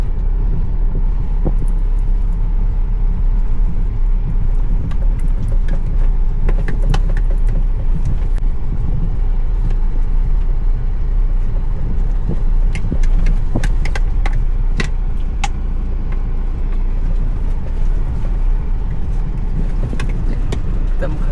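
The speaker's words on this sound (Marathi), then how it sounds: "सावकाश म्हणजे जेवढं सावकाश म्हणेल तेवढा धाडधूड आवाज यायला लागले." A car crawls off-road over a dangerous rocky track near the Goa coast, its engine rumbling steadily as the body rattles and thuds over stones, loud and close throughout.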